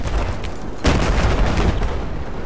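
A planted bomb detonates in a video game with a sudden loud boom and lingering rumble, preceded by a fainter background rumble.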